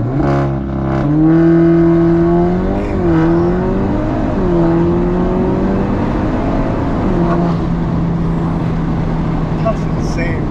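A 2022 Audi S3 (8Y) pulls hard through its gears, engine note climbing in rising tones that drop and surge again at each shift, heard from inside the cabin with people talking over it.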